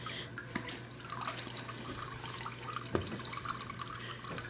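Steeped redbud tea being squeezed out by hand, giving a steady trickle and splashing of liquid with a few sharper drips standing out, close and moderately loud, with no one speaking.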